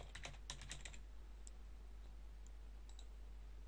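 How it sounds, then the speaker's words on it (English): Rapid keystrokes on a computer keyboard while entering a plugin search term, a dense burst of clicks at the start thinning to a few scattered taps, close and fairly quiet. "So I'm going to type in RomanCart,"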